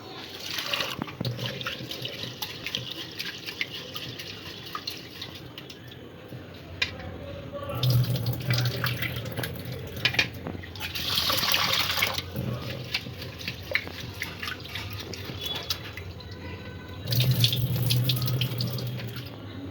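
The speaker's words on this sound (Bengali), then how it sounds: "প্রথমে চালটা আমি ভিজিয়ে নেব।" Tap water runs into a sink while rice is soaked for a peas and paneer pulao. The flow swells in louder splashing bursts over a constant lower trickle.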